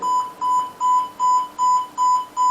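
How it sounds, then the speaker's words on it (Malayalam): A corona self-test kit's timer beeps again and again, a loud, even run of about seven bright electronic beeps in steady rhythm with no other sound. "ബീപ്പ് സൗണ്ട് കേട്ട് തുടങ്ങിയിട്ടുണ്ട്."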